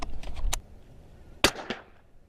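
A CZ 457 rimfire rifle fires SK Pistol Match Special rounds outdoors, giving sharp, fairly close cracks: a few at the start, then one louder shot followed by a quieter one, with a brief echo tail after each.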